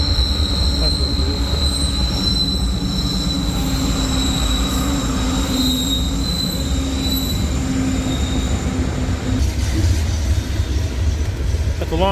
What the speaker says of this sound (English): That's a long train. They had engines in the middle.